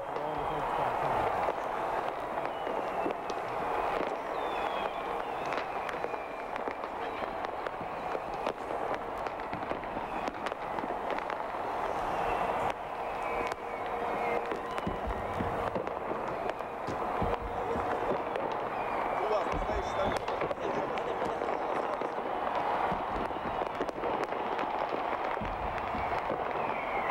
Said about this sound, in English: As you see the fireworks, the pyrotechnics going off throughout the area around Red Square there in Moscow